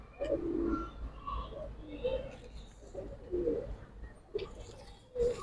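Giribaz pigeons coo in low, throaty bursts close by, repeating several times, with someone talking over and between them and faint rustling in the background.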